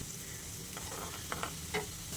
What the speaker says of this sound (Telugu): ఆనియన్స్ లైట్గా గోల్డెన్ కలర్లో వచ్చేంత వరకు దీన్ని ఫ్రై చేసుకోవాలి.